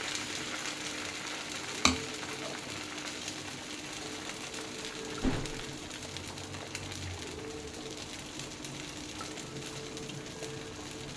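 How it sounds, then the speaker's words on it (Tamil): Watermelon-rind dosa batter frying on a hot pan, a steady soft sizzle running throughout with two brief sharper clicks of a utensil against the pan, no talking. "வாங்க இப்போ நம்ம தோசை சுட்டுடலாம்"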